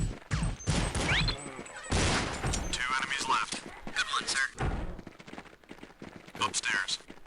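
Pistol shots from the starting sidearm in the classic Counter-Strike game, heard as several sharp bursts spread through the stretch over talk and background game noise.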